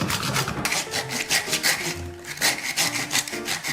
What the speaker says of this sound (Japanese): ノコギリ使おう。